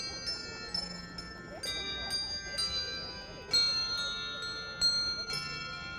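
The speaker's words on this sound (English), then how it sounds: "The bells are just playing softly, holiday music." Bells chime softly with holiday music, a series of clear ringing strikes with lingering tones at an uneven pace, moderately distant, with faint background murmur.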